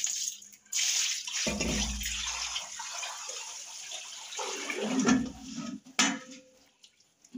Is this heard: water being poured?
yes